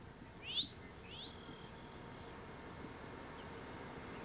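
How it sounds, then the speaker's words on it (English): A rufous-sided towhee on Sanibel gives two short, thin, upward calls early on, faint and distant over a steady low outdoor hiss. "The rufous-sided towhee can be heard, if not seen, in all seasons on Sanibel."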